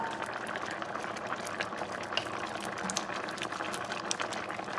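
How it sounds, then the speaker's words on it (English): A steady bubbling and hissing of water boiling in a pot, continuous and fairly close, with small pops throughout and no voices. "So now that it's boiling"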